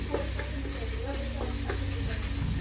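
Garlic, ginger and onion sizzle steadily as they are sautéed in a pan for rice porridge, a close, constant frying hiss with faint stirring clicks.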